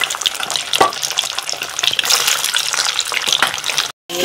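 Potatoes fry golden in hot oil for Kolkata-style mutton biryani, giving a close, dense crackling sizzle that runs steadily before a brief dropout near the end.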